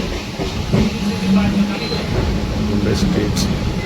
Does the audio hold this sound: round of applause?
no